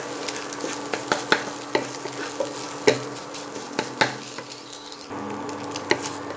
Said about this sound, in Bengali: ভালোভাবে ডিমটাকে ভেজে আমি তুলে নেব।